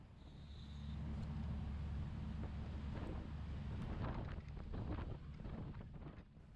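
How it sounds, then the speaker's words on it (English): Ferry pulling away from the Meridian dock toward Sapelo Island, Georgia: a steady low engine rumble mixed with wind buffeting the microphone, with faint clanks and splashes on the water. "As the ferry pulls away from the Meridian dock and begins its 7-mile, 20-minute journey to Sapelo"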